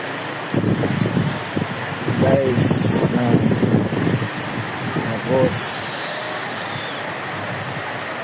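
Heavy rain on a rainy night while riding a motorcycle, a constant roaring hiss of rain and wind rushing past, with someone talking over it for part of the time.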